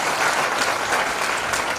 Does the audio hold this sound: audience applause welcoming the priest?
yes